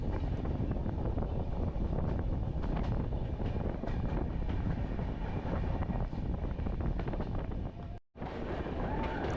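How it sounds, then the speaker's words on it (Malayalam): Araku Valley mountain train climbing the hill, a dense continuous rumble with rattling and wind buffeting, steady and loud throughout, cutting out briefly near the end before resuming. "ട്രെയിൻ മല കയറി തുടങ്ങിയിരിക്കുകയാണ്."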